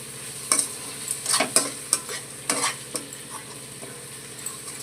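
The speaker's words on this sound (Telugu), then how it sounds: "అల్లం వెల్లుల్లిపాయ పేస్ట్ పచ్చివాసన పోయేంత వరకు ఫ్రై చేసుకోవాలి." Ginger garlic paste frying in a pan for mutton curry, a close sizzle broken by several sharp stirring scrapes and spatula taps, fading to quieter frying toward the end.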